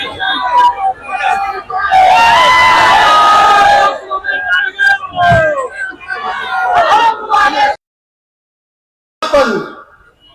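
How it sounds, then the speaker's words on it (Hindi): A large rally crowd at a mass protest march in Nagpur erupts in loud cheering and shouting, with a burst of massed voices and applause that breaks off, then resumes under an amplified speaker. "जोरदार तालियां आदरणीय बाबा साहेब अम्बेडकर।"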